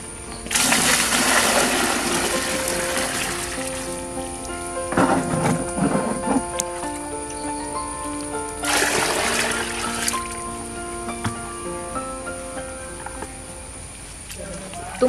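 Jeevamrutha liquid fertilizer is poured onto plants in two loud, rushing splashes of liquid, each tapering off into softer trickling between them.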